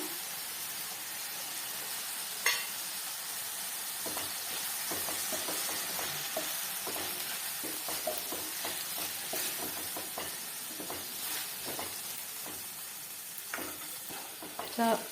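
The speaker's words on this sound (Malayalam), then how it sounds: "സോസ് ഒഴിച്ച് കൊടുത്തിട്ട് ഒന്ന് മിക്സ് ചെയ്യാം" Gobi manchurian stirred in a hot pan with tomato and soy sauce, a constant loud sizzle broken by repeated scraping clicks of a spoon against the pan, close up and steady throughout.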